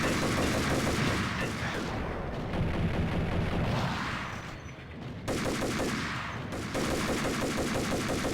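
Dense, loud gunfire in Max Payne, with sustained automatic bursts and overlapping shots that pause briefly before resuming, close and continuous.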